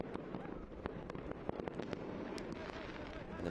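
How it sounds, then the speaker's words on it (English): Fireworks bursting over a soccer stadium during a July 4th USL League One match, scattered sharp pops and crackles over a constant distant crowd roar, fairly faint. "And the fireworks continuing to go off."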